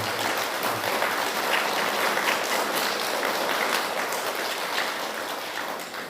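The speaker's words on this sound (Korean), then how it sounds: "우리 고마움에 감사의 박수 한번 해주시기 바랍니다" A Sunday service congregation gives sustained, dense applause of thanks to two church elders who provided lunch, a loud, even wash of many hands clapping together that tapers slightly at the end.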